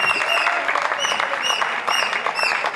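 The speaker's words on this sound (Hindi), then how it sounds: "हाँ जोरदार तालियां बजा दो भाई सचिन सर के लिए।" Audience applauding for Sachin sir during a Teacher's Day award ceremony, a dense, steady wash of many hands clapping close by for about three seconds, with no talk over it.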